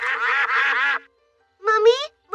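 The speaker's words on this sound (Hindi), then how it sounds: "देखो, वहाँ तालाब में बत्तख है।" Cartoon ducks on a pond quack in loud, close bursts: a long run of rapid quacks, a pause, then a shorter nasal volley and a final brief call.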